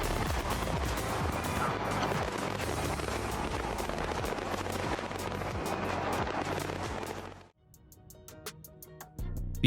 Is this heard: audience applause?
no